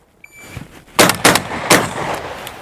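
A semi-automatic shotgun fires three loud, close blasts at a target in quick succession, with short gaps between them and a brief echoing decay after each.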